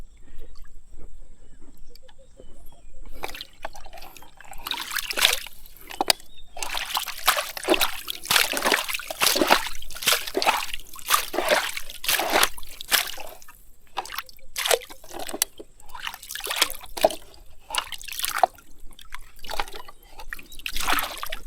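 Water flows into a boat, splashing and gushing in irregular bursts, sloshing and trickling close by, with the surges coming every second or so.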